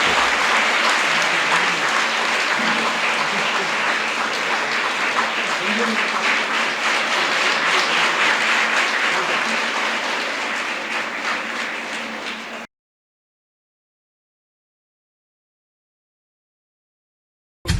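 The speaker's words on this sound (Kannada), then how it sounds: "ತಾವೆಲ್ಲರೂ ಜೋರಾಗಿ ಚಪ್ಪಾಳೆ ತಟ್ಟಿ ಅವರಿಗೆ ಗೌರವವನ್ನು ಸಲ್ಲಿಸಬೇಕು." A large audience at a youth conference applauds loudly and steadily for about twelve seconds, a dense continuous wash of clapping that then cuts off abruptly into silence.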